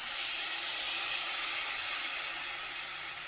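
A loud, continuous sizzle and hiss, like batter frying in hot oil, holds steady close by and fades slightly toward the end.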